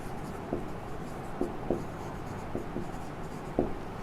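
Marker or chalk strokes tap and scratch on a classroom board in short bursts, a handful of quick squeaks spaced through a quiet room during a physics lesson.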